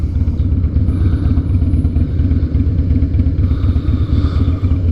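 A 2007 Harley-Davidson Night Train engine runs close by with a steady, loud low rumble throughout, its throttle response lively with small surges, and no one talks over it.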